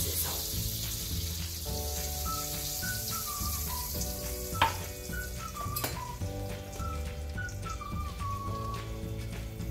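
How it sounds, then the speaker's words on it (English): Continuous close sizzling of blueberry muffin waffle batter frying on a hot surface, with a faint metallic clink midway and tonal hums in the background. "Nice sizzle."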